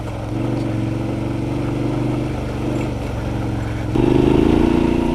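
Suzuki V-Strom 650XT motorcycle riding out of a spring and waterfall area in the Missouri Ozarks, a steady close engine drone with a throttle rise near the end and no talk.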